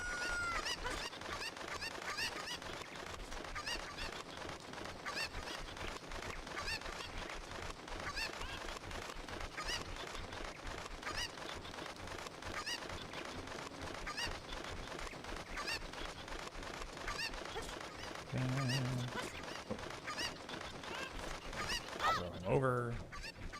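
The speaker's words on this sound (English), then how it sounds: "just sounds of chickens." Chickens cluck continuously in The Legend of Zelda: Ocarina of Time, forming a busy, steady layer of game fowl noise that lasts throughout, with a person speaking briefly near the end.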